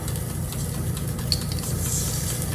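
Chicken wings laid in a preheated air fryer basket, a steady close sizzle over the low hum of the running fan, with a couple of light metallic clinks.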